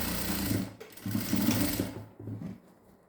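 An electric sewing machine runs in short whirring bursts as it stitches a blouse seam, loud and close, pausing briefly between runs.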